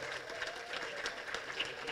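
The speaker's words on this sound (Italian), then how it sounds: "io vi prego di farvi un applauso perché avete riempito la sala" An audience in a conference hall at a climate lecture for schools keeps up a steady wash of applause, dense and continuous but fairly faint and distant, without distinct voices.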